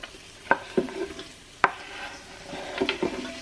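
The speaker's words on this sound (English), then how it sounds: "So I'm just going to add a little bit of oil. And I'm going to pop my onions in here." Onions sautéing in a little oil inside a Cosori 5.7L pressure cooker, with a few sharp spoon scrapes and clacks against the pot over a soft, low sizzle.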